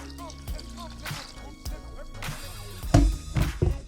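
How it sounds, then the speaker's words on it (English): Water poured into a bowl of arepa dough mix with olive oil and salt, giving short liquid splashes and dripping plus light knocks of bowl and hands, close and moderately loud, with no talking. "gonna add the water"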